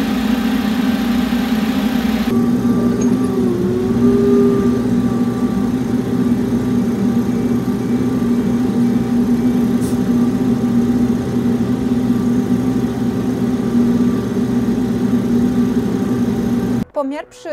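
Chinese Arbos tractor engine running under load on a dynamometer during a pull test, a steady loud drone held for the whole stretch with a slight shift early on, cutting off abruptly at the very end.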